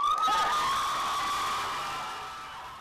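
A crowd at a Salt Lake County Council meeting cheers after a vote rejecting a school mask mandate, with loud shouting and whoops that start at once and slowly fade over a few seconds.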